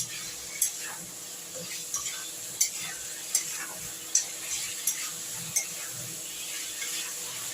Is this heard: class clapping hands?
no